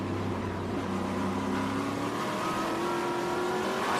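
A Trans Am TA2 race car braking into a turn at Sebring, heard on board: a loud, continuous engine roar whose pitch shifts as the car slows for the corner.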